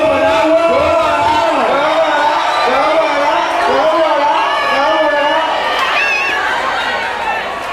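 Live stage show audience cheering and shouting in a continuous crowd roar, with singing or chanting voices riding over the noise throughout, fading slightly at the end.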